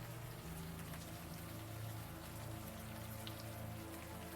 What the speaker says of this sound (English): Now that it's out in the open air and the warm rain is coming down